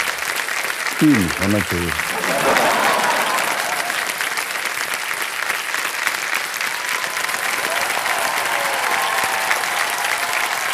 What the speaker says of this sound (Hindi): जोरदार तालियां रजनी जी के लिए।